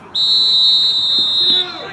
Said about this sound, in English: And that whistle gets us underway.